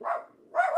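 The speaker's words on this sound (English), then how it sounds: "there's people in the park and he's losing his mind" Teddy the dog barks at people in a park: two close, loud bark bursts separated by a short pause, with no talk over them.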